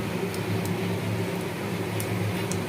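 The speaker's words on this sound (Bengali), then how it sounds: "তেজপাতা আর পাঁচফোড়নটা ভাজা হয়ে যায়।" Bay leaves and panch phoron fry in hot oil for a potol chingri dish, giving a steady, even sizzle with faint crackles and pops throughout, close and without talk.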